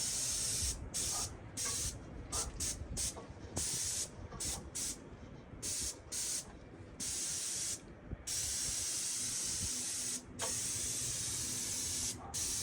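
A paint sprayer hisses in repeated bursts while coating a gable end, each spray pass broken by short pauses in an uneven rhythm, with a low rumble of equipment underneath.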